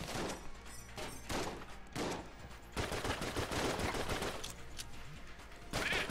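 Rapid gunfire from the top-down shooter Enter the Gungeon, loud and nearly continuous, with dense bursts of shots that ease briefly and then resume.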